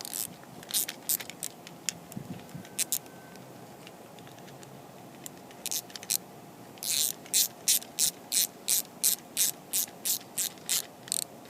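A ratchet and 7 mm socket snug down plastic-mounted carburetor bolts on a 2019 Bolens push mower, scattered clicks early then a run of quick, even ratcheting bursts close up, no talk.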